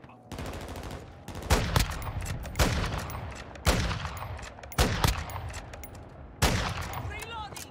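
Gunfire in the video game Modern Warfare 2, repeated loud automatic bursts and heavy shots over about eight seconds, with players talking underneath.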